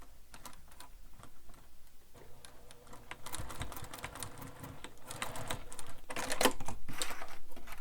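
Sewing machine turned slowly by hand while top stitching through the bulky layers of a bag: soft irregular ticks and clicks at first, growing louder and busier with rapid mechanical clatter toward the end.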